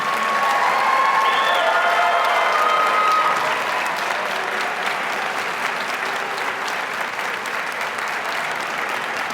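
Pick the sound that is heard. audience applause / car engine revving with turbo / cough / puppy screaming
audience applause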